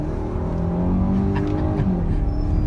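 Kia car accelerating hard as its transmission kicks through gears, a loud continuous engine drone with a rising, shifting tone heard from inside.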